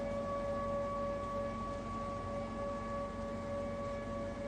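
Steady wailing sirens hold sustained tones throughout, layered over a constant low rumble; no voices, distant and continuous.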